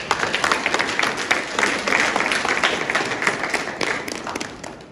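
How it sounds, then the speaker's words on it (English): A room of attendees at a Gambia Armed Forces decoration ceremony gives a sustained round of applause for the President, thick and continuous with slight swells, heard alone. "Shall we give him another sounding round of applause?"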